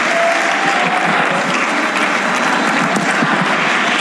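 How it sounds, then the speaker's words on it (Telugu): A church congregation at Calvary Temple in Ongole claps loudly and steadily, dense sustained applause filling the hall without a break. "గట్టిగేసేకి చప్పట్లు కొట్టి ఏసయ్యానండి గట్టిగా"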